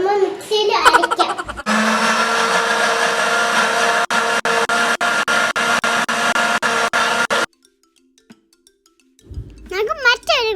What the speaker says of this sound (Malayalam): ഇനി അത് പാലും ഐസ്ക്രീമും കൊക്കോ പൗഡർ ഇതൊക്കെയാണ് നമ്മൾ മിക്സിയിൽ അരയ്ക്കാം.